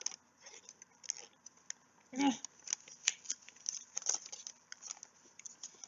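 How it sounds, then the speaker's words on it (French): Scissors snip and slice through a heavily taped parcel close up, giving a run of quick crisp cuts with one louder rustling tear, while someone talks over it. "il fallait bien que je garde mes ciseaux à portée de main"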